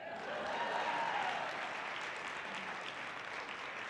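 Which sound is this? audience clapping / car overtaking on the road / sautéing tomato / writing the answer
audience clapping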